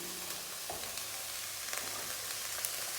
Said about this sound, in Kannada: ಇವಾಗ ನಾನು ಕ್ಯಾಬೇಜ್ ಹಾಕ್ತಾಯಿದ್ದೀನಿ.